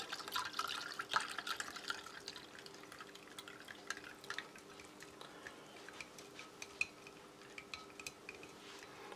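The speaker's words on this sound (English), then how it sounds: "let's give that a full glass of water." Water pours faintly into a glass to mix MRE drink powder: a soft, steady splashing trickle with a few light clinks, quiet and close.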